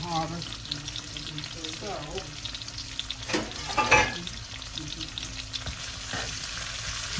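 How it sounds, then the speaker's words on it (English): Vegetables with carrots sizzle and fry in a pan while being stirred, with scraping utensil strokes and a soft voice speaking briefly over the steady crackle. "stir that around a little bit."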